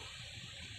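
Water poured onto lava in Minecraft, a brief steady gushing hiss, faint and alone without speech.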